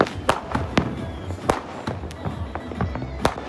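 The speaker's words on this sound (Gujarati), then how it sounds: "અત્યારે યસ ફટાકડા ફૂટવાનું ચાલુ થઈ ગયા છે" Firecrackers bursting outdoors during a festive evening, several sharp cracks at irregular intervals, some near and loud, others farther off, over a steady background of distant popping and crowd noise.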